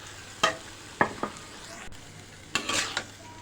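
A spoon scrapes and knocks against a pan while chicken curry with potatoes and tomatoes is stirred, with a few separate clattering strokes over a soft background hiss. Close and fairly quiet, with no talking.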